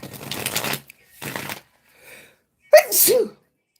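A single sharp sneeze near the end, preceded by a few soft shuffling and rustling sounds.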